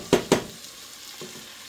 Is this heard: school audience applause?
no